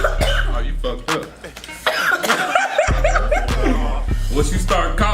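Coughing and throat clearing after eating triple hot wings in a spicy wing eating challenge, several harsh bursts spread through the clip over steady background hum, with people talking around them.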